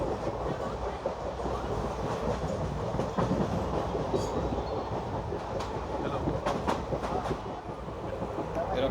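The Koyna Express passenger train runs along the track through the Bhor ghat section, a steady close rumble of wheels with faint rhythmic clicks and occasional squeaks throughout.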